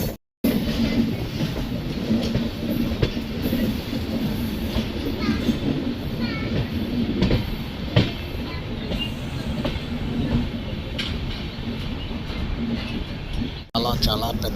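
A passenger train travels on the line from Katpadi Junction toward Sainagar Shirdi, heard from on board as a continuous rumble with rhythmic clickety-clack of wheels over rail joints, and voices talking over it.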